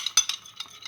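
A spoon stirs a mixture that includes a tablespoon of olive oil, giving a few quick, close, soft scraping and clicking strokes in a brief burst, without any voice.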